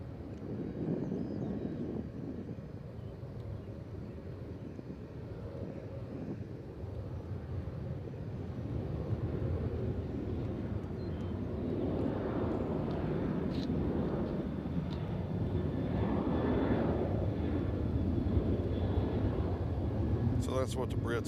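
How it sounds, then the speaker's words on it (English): A Delta airliner from Salt Lake City arrives at Nashville International Airport. Its broad jet roar swells gradually from a distance, mixed with wind buffeting the microphone. "So here's Delta from Salt Lake City coming in."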